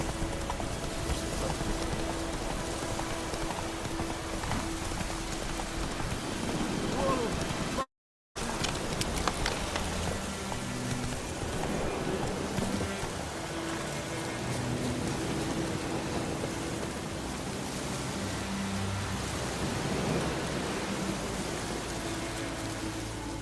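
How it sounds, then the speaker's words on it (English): Steady rain in the video game The Witcher 3 patters and hisses throughout, with faint rumbles and clopping sounds mixed in and a brief cut in the middle. "Let it rain."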